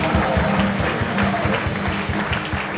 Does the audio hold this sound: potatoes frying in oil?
no